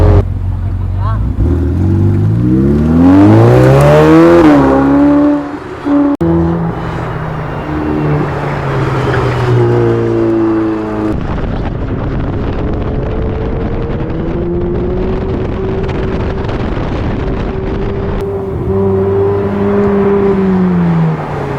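A Ferrari 488 Pista on bald tires accelerates hard around an autocross course, the engine note rising and falling in loud revving sweeps as it shifts, with wind buffeting and people talking over it.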